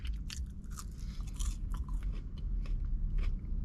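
McDonald's fries being chewed close up, a run of crisp bites and crunchy mastication over a low, dull chewing rumble, steady for several seconds with no talking.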